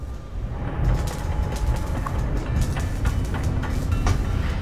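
A rail train in the city-building video game Cities: Skylines 2 rumbles and rattles steadily, with metallic creaks and clanks over a low continuous roll.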